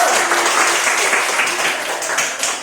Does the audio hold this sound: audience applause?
yes